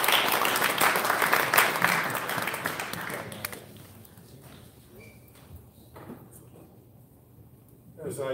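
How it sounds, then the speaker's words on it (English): Audience applause at a boxing press conference, loud and dense for about three seconds before thinning into scattered claps and fading, with a brief swell near the end. "A big round of applause, please, for Russell Peltz."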